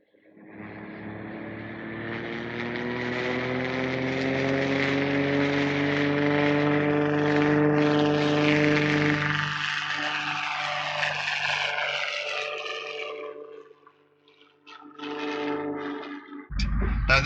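A training helicopter at Shannon Airport in 1967 winds up as power rises for lift-off, a loud rising turbine and rotor tone building steadily before cutting away near the end.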